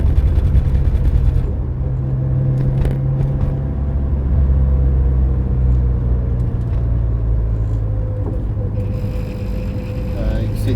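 A car drives across the infield of Silverstone circuit, its engine a steady low rumble with road noise throughout, heard from inside the cabin with a voice talking over it.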